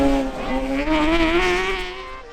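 A rally car blasts through a stage on the Aghadowey winter series, its engine note climbing steadily through the gears, loud and close, with a hint of tyre noise and no talk.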